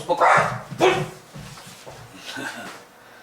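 A dog barks a few times nearby in a quiet village setting, sharp bursts early on followed by softer yips, with people talking in the background.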